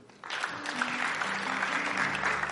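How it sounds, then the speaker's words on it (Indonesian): A church congregation breaks into applause during a sermon, starting abruptly and holding as a dense, moderately loud patter of clapping with some voices mixed in. "Beri tepuk tangan buat Tuhan."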